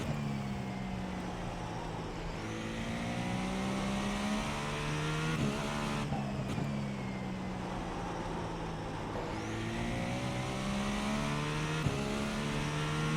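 Race car engine from iRacing, a TA Drag Racer in an IMSA race at the Nordschleife, droning steadily close up with rising and falling pitch through gear changes, no talking.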